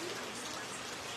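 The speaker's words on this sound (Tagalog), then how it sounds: "Umuulan pa dito." Steady rain pours down outdoors at a nature farm, a dense, even hiss of drops on surfaces that fills the whole moment without pause.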